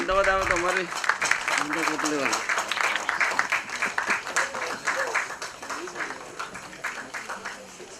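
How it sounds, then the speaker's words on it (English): An awards-ceremony crowd bursts into sustained applause, dense clapping that holds steady for several seconds before slowly thinning out, with a voice briefly audible at the start. "a huge round of applause for Mr. Murali Krishna Chemutri."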